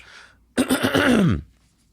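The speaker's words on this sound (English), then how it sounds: "That wasn't me clearing my throat to be theatrical." A person clears their throat once, a short rough rasp lasting under a second, close and fairly loud against quiet.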